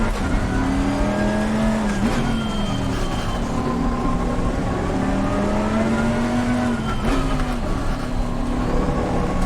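A race car engine in Assetto Corsa Competizione, driven on a wet track, drones loudly and steadily, its pitch dropping and jumping briefly during downshifts.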